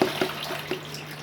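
Green chutney herbs rinsed under an open running tap, with a steady trickle of water and a few soft drips and splashes close by.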